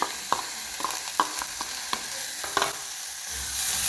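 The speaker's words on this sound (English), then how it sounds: "Then I put in the onions." Onions go into a pot of brown rice soup and fry with a soft sizzle, broken by scattered light clicks and stirring scrapes. The sound is close and moderately loud, with no voices.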